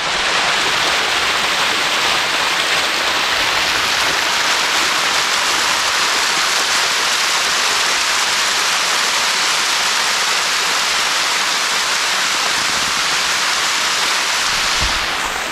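A dense, constant roar of rushing water, loud and unbroken throughout, like a waterfall heard from close by, at a tea estate in Meghamalai, Tamil Nadu.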